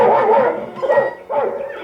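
A family dog in a Gremlins story record yips and barks at a creature, loud, close, whiny barks in quick bursts with a short pause, no talk over them.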